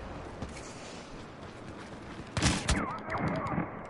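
Blaster gunfire in a Star Wars video game, a burst of loud shots erupting midway after a stretch of background game noise, followed by scattered whooshing effects.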